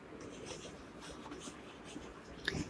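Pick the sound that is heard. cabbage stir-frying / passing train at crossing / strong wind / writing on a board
writing on a board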